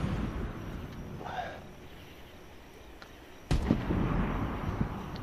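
A rail gun fires in a multiplayer shooter video game: a sudden loud blast cuts in midway and leaves a harsh, sustained roar over steady background game noise.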